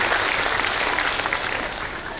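Dense, steady applause from an audience honoring Kunvarjibhai Bavaliya at a bridge foundation-laying ceremony, a continuous close wash of clapping with no gaps.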